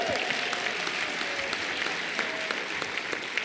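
A large audience at the opening session of a women judges' conference in Cape Town applauds, with continuous, dense clapping that holds steady throughout.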